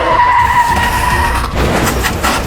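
A car brakes hard, its tires squealing and skidding in one loud, continuous screech that lasts about two and a half seconds, turning rougher and noisier toward the end. No voices are heard over it.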